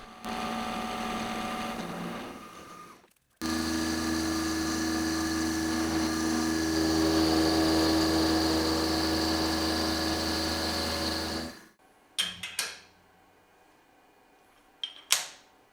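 A milling machine cuts down the top of a magnetic vise jaw, a steady whining tonal hum that runs for about eight seconds after a short earlier run, then stops, followed by a few sharp metallic knocks.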